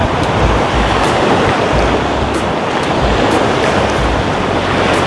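Sea waves at Ladder Beach, Saipan, make a loud, continuous roar of surf with wind buffeting the microphone and no voices.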